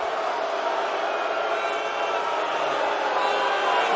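Large arena crowd at a televised wrestling show erupting in a sustained roar of cheers and yells, a dense, loud wash of noise holding steady throughout.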